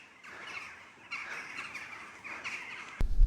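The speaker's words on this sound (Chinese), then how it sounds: "这么多的乌鸦" Many crows perched in trees on a Xinjiang mountain road near Xinyuan County caw repeatedly in ragged overlapping bursts, moderately distant, ending in a close bump.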